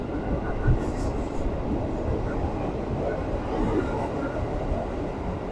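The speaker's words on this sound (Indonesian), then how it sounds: "ini KRL melintas langsung ya teman-teman ya" A KRL commuter train passes straight through a station platform, a steady loud broadband rumble of wheels and cars lasting throughout, with brief speech over it.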